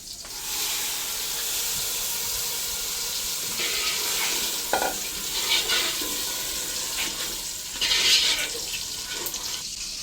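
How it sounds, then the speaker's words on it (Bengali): Hot water poured onto fried pulao rice in a pan sets off a loud steady hiss and bubbling sizzle that swells near the end, close up and without speech. "এখন দিয়ে দিব গরম জল।"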